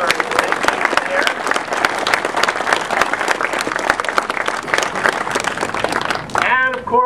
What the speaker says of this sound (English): maybe a big a round of applause for there